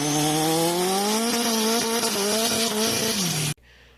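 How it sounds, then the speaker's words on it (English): A turbocharged Honda Civic with its exhaust routed out through the hood screams hard under full throttle, a loud, rising, buzzing engine note climbing steadily through the gears before cutting off abruptly into quiet. "He floors it, dude, and it sounds like he's going 200 miles an hour"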